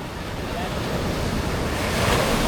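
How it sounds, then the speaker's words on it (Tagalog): Strong ocean surf pounds the shore at Sablang in General Nakar, a steady, loud roar of breaking waves mixed with gusty wind noise across the whole stretch. "Grabe lakas ng alon dito."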